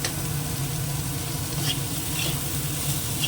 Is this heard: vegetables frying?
yes